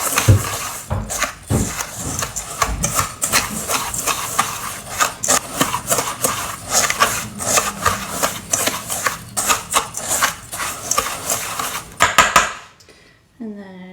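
Crushed crackers being whisked with brown sugar and salt in a bowl, with rapid scratchy, rattling strokes repeating close up for several seconds before stopping into near silence.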